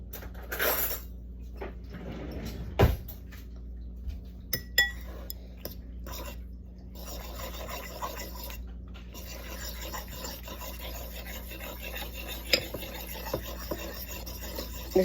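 A fork beats eggs for a scrambled egg sandwich, making quiet, irregular clinks and scrapes against a bowl, with some louder taps standing out over a low steady hum.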